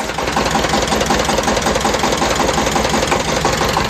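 A ZS1100NM single-cylinder diesel engine on a Shifeng SF 160 or Bulat SF 200 tractor idles steadily, a loud, continuous, rapid knocking chug that holds an even rhythm throughout without pauses.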